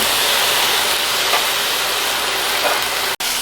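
Vegetables steam in a stir-fry pan after water is added, giving a loud, steady hiss that cuts off abruptly near the end.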